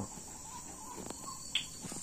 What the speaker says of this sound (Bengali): অন্ধকার, ঝিঝি পোকা ঝিঝি করতেছে, কিছু দেখা যায় না বাইরে।